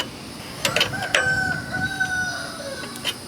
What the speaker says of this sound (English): Chickens are up